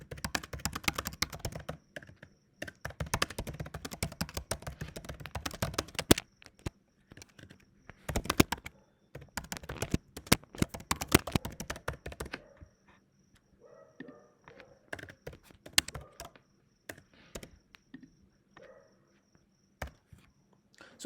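Someone types on a computer keyboard in rapid bursts of clicks separated by pauses, close and moderately loud, with quieter scattered keystrokes later and no speech.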